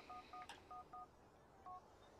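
Cell phone in GTA IV dialing cheat codes: a series of crisp DTMF keypad tones, about six short beeps in quick uneven rhythm with a pause before the last, clear and alone.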